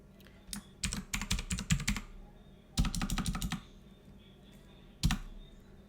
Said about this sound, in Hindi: तो यहाँ पे मैं थोड़ा सा टाइप कर देता हूँ